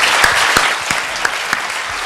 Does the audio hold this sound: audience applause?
yes